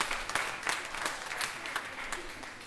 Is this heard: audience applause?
yes